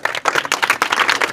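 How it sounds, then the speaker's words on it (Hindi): Claps break out in a crowd of students at a village coaching centre's Teachers' Day celebration, welcoming a girl about to give a speech, a dense, steady patter of many hands close by for a moment. "तो फिजा के लिए ताली बजा दीजिए।"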